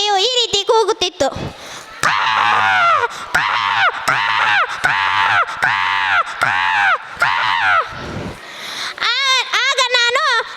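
At a school day performance, a voice imitates a crow on a tree branch, giving about six loud, close, harsh caws in a steady rhythm, followed by a few quicker calls.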